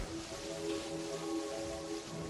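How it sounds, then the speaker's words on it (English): Rain falling in the game Terraria: a soft, steady patter and hiss, faint and continuous, with low tones sounding underneath and no voices. "Raining and snowing."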